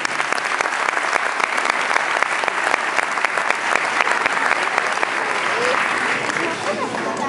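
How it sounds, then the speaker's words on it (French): Crowd at a Palais des congrès rally against the Quebec values charter applauds guests of honour, loud sustained clapping throughout, with a voice briefly audible under it. "Donc applaudissons ces invités d'honneur s'il vous plaît."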